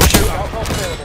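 Loud, dense gunfire in Call of Duty Black Ops 6, rapid overlapping shots packed into about a second of close, continuous firing.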